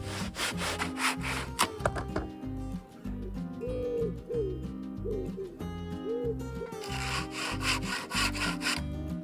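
Hand saw cutting wood for a guitar body, steady back-and-forth rasping strokes in a regular rhythm, close and loud, with birds cooing faintly in the background.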